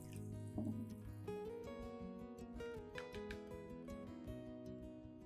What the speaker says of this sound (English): pour the coffee solution mixed with B1 into a clean plastic cup